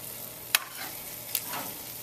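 Stir-fry pieces sizzle softly in a toaster oven under the broiler, with a steady frying hiss and two small metallic clicks as tongs turn them over.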